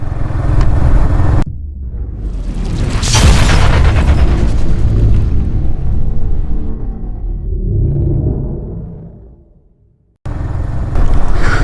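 A motorcycle engine runs with a loud, close, continuous roar and heavy low rumble. It fades briefly near the end, then returns at full strength.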